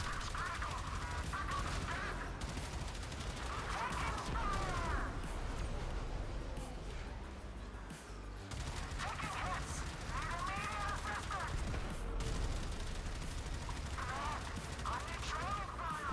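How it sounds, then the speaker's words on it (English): Railjet Mark IV turrets firing in the Warframe video game, a dense continuous barrage of rapid energy-weapon shots with chirping, warbling effects, loud and unbroken throughout, with a brief dip midway. "and the guns keep going"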